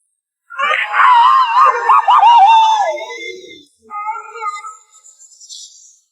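Tom the cat's cartoon scream from Tom and Jerry, voiced by William Hanna, is a loud, long wavering wail lasting about three seconds, followed by a shorter, quieter strained yelp that trails off.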